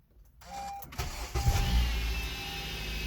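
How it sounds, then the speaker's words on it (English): A 2013–2017 Honda Accord starting after a crankshaft sensor replacement: a short electric whir, a quick crank, then the engine catches and settles into a steady low idle, heard close with no talking. "we'll go ahead and start the car to make sure we don't have any error codes, to make sure the engine starts how it should"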